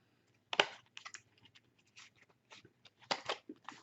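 Tarot cards shuffled by hand close up, a series of soft crisp riffles and slaps in irregular bursts against near silence, with no talking.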